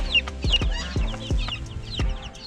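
Ten-day-old chicks and grown hens inside a backyard coop, near and clear, with a steady run of soft clucks and short chirps repeating every half second or so over quieter peeping.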